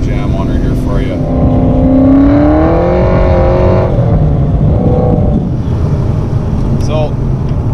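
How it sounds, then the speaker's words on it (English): A Foxbody Mustang with a 5.0 small-block Ford V8 and Comp Cams XE266HR camshaft accelerates hard in second gear from about 2,500 to 6,000 RPM, a loud rising engine roar heard from inside the car before it settles. "So the car will break loose in second gear for sure."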